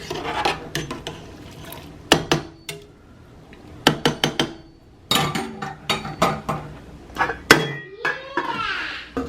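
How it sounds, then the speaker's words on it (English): Cooked beans stirred in a pot during batch cooking, with repeated sharp scraping and clinking of a utensil against the pot in irregular bursts, close and fairly loud, separated by brief quiet gaps. "Mix them up again."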